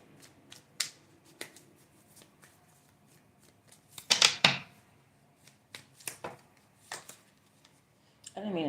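Tarot cards being shuffled by hand, a string of soft riffling bursts and sharper snaps close by, with a longer burst of rapid card flutter in the middle.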